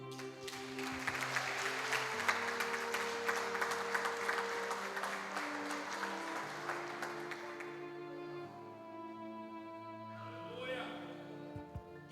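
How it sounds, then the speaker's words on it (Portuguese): A church congregation claps together in sustained applause, a dense wash of hand claps that fades out partway through. Sustained tones from a keyboard or organ play under it, and a voice speaks near the end. "Dá uma salva de palmas para Ele."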